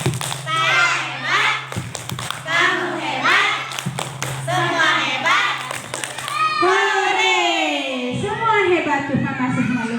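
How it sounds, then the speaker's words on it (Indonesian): Children at a kindergarten Prophet's birthday celebration clap out the rhythmic 'tepuk hebat' chant, with bursts of patterned claps and thuds over their chanting voices and an adult leading. "Tepuk hebat."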